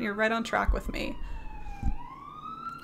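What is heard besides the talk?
passing sirens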